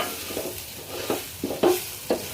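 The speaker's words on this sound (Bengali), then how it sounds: "একটু পোলাও রান্না করতেছি, সাদা পোলাও, একদম সাদা।" A spoon scrapes and stirs white pulao rice in a pan, making repeated soft scraping strokes and clinks over a steady low sizzle, loud and close, at an uneven rhythm.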